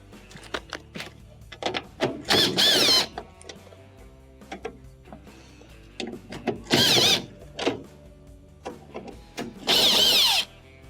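A power screwdriver backs three Phillips screws out of a Frigidaire washer's console cover, sounding as three separate whirring bursts of about a second each, spaced apart. Softer clicks and handling noise fill the gaps between them.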